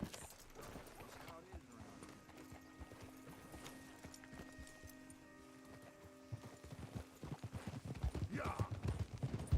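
Steady horse hoof clip-clops at a walking pace in Red Dead Redemption 2, under ongoing conversation, with faint background game music and ambient tones.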